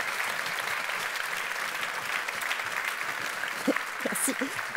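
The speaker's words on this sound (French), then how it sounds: "On peut l'applaudir, s'il vous plaît" A conference audience gives sustained applause for a speaker. The clapping holds steady and moderately close throughout, and a few voices briefly break through near the end.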